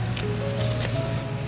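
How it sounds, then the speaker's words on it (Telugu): Leaves being pulled and snapped off vegetable plants in a home garden plot, a close, steady rustling and squishing that runs without a break for a moment and has no talk over it. "నేను ఇవన్నీ ఆకులు తీసేస్తాను."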